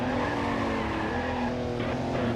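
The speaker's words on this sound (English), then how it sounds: "God, the locked up brakes." Locked brakes make the tires of a car skid in the PS2 racing game Alfa Romeo Racing Italiano, a steady loud engine drone carrying through with a brief screech of tire squeal near the end.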